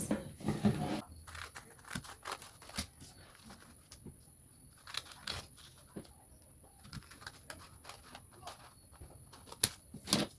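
Scissors snip through fabric being cut out for a sewn school uniform, a series of short crisp cuts with pauses between, fairly close and alone without talk.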